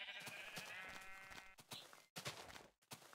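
Sheep bleating in Minecraft, a couple of wavering bleats up close, with faint clicks and shuffling sounds around them and no talking.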